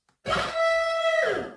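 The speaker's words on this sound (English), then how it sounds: "Let's stretch out the Who so it sounds like this." Mario's "Who" from his video-game Yahoo voice, digitally time-stretched into one sustained 1.5-second tone with a steady pitch and a bright, buzzy overtone stack, alone and clear.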